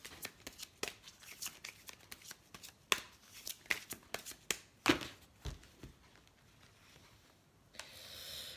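Tarot cards being shuffled by hand, a run of crisp riffling flicks and slaps in an irregular rhythm, close and quiet with no voice over them.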